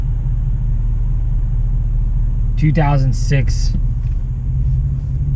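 A 2020 Chevy 2500 pickup truck's 6.6 gas engine and MBRP exhaust drone with a constant low rumble, loud and close, while a person briefly speaks over it.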